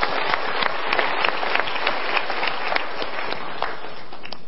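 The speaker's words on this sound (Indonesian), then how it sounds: "Kita berikan tepuk tangan dulu." An audience claps in steady, dense applause, close and continuous throughout, sounding somewhat muffled and thin.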